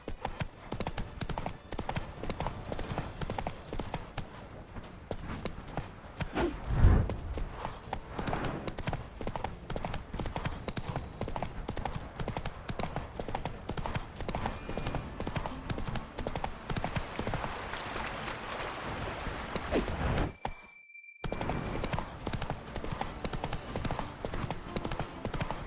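Geralt's horse Roach trotting in The Witcher 3: Blood and Wine, a steady, clear rhythm of hooves clip-clopping continuously close by, with a brief gap near the end.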